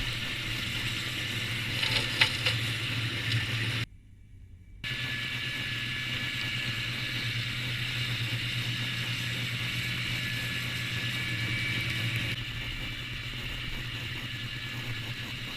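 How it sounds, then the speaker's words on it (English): A snowblower throws snow into a side dump semi trailer, its steady mechanical roar and rattling churn continuous and loud, with a brief drop to near quiet partway through before the machinery noise resumes alone. "Here the snowblower and the driver of the semi are working together to fill that trailer evenly front to back"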